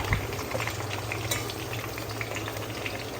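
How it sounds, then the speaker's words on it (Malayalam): Lengthwise-sliced onions frying in hot oil in a pan, a dense, even crackling sizzle that holds steady throughout at close range, with no talk. "നമ്മൾ നീളത്തിൽ അരിഞ്ഞ് വെച്ചേക്കുന്ന സവാള ഇട്ട് കൊടുക്കാം."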